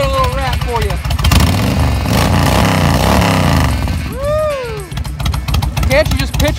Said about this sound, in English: Got really nice Cobra exhaust on it. Sounds real good. Let's give it a little rap for you.